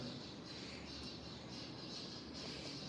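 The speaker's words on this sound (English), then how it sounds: "I got a lot of birds out there." A crowd of birds squawks outdoors in a dense, continuous chatter that fills the whole stretch without pause, with no one talking over it.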